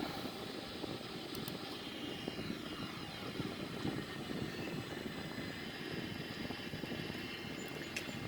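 Sukhoi Su-30 jet engine in a flight simulator video game, heard from an outside view as a faint, steady engine drone with a constant rumble and no clear changes.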